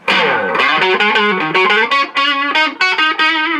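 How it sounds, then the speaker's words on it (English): A distorted electric guitar on the neck pickup through a bright Crate Stealth 50 amp plays a quick melodic line of bright, ringing notes, loud and close, with a chorus-like shimmer on the tone. "Neck pickup, man. You can tell this is a really bright amp."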